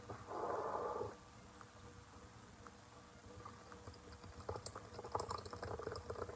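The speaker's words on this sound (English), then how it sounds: "I'm gonna combine the wet and the dry ingredients into one bowl." Wet and dry cornbread ingredients poured into one bowl and combined: a brief burst of liquid pouring near the start, then quieter stirring, sloshing and scattered clinks, close and moderately soft, with no talk.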